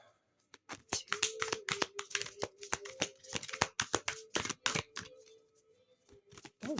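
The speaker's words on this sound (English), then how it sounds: "This is a very difficult deck to shuffle, by the way." Rapid riffling bursts of a deck of cards being shuffled close by, in uneven runs that speed up and slow down, with a faint steady hum underneath.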